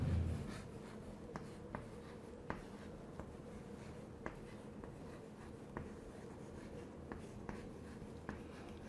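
Chalk or marker strokes on a board during a physics mechanics lecture, a run of short, crisp taps and scrapes spaced irregularly, close and fairly quiet with no talking over them.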